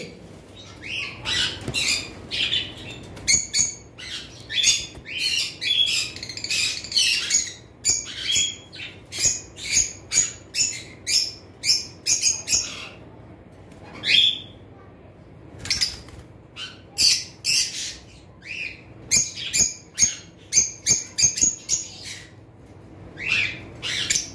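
A breeding pair of lovebirds, with more pairs caged nearby, squawking and chirping in rapid harsh bursts that repeat throughout, close and loud, with brief pauses between flurries.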